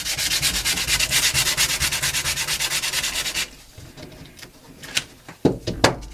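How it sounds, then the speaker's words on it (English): Sandpaper rubs back and forth over dry painted paper in an altered book, a steady rhythmic scratching for about three seconds, then a few softer scattered scrapes and taps. "Let the sandpaper do the work for you."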